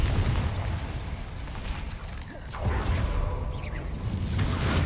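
The Bombarda explosion spell in Hogwarts Legacy bursts as a dense, roaring blast with whooshing debris, loud and continuous across a busy game battle with no talk.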